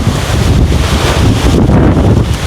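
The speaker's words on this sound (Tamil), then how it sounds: "நல்லா காற்றடிக்குது பாருங்க. சத்தத்தை கேளுங்க." Strong wind roars and buffets the microphone continuously across a vegetable farm in Jaffna, a loud, rushing blast with no letup.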